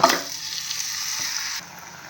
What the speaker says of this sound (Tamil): நம்ம மிக்ஸ் பண்ணி வச்சா எல்லா சிக்கன் ஆனியன் டொமேட்டோ மசாலா எல்லாத்தையும் ஆட் பண்ண போகிறேன்